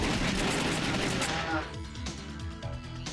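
Gunfire in the arcade shooter The House of the Dead 2 crackles in a dense, rapid burst of shots, then gives way to scattered single shots and game effects with some speech mixed in.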